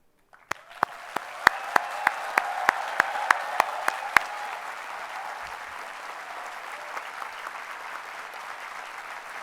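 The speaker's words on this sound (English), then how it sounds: "let's see how loud you can be in applauding your parents." An audience at a convocation ceremony breaks into sustained applause, loud dense clapping from a large crowd that swells quickly and holds steady, with a few sharp isolated claps at the start.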